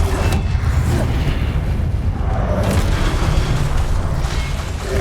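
Incendio fire spell blasts in Hogwarts Legacy, heavy booming bursts and whooshing flames layered over a constant low rumble, loud and continuous, no talking.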